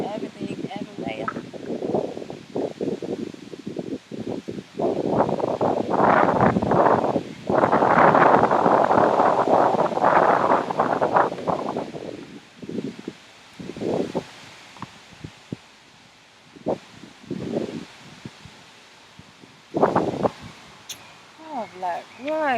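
Wind blows outdoors on a sunny day in London, roaring and buffeting the microphone in loud gusts that rise and fade. Someone talks over it at times.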